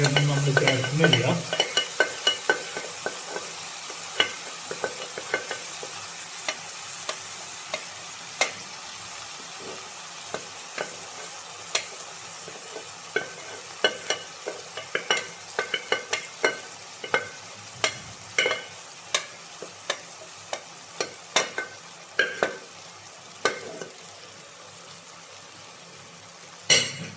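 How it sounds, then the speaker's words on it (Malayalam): Beef roast with its masala and a little water being stirred in a pan, a steady low sizzle with frequent sharp clicks of the spoon scraping and tapping throughout, close and alone. "ഒന്ന് ഇളക്കുക."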